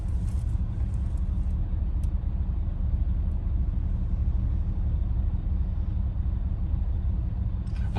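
A car drives a winter road on Route 6 between Portage and Gary, Indiana, with a constant low engine and tire rumble heard from inside the cabin, steady throughout with no talk.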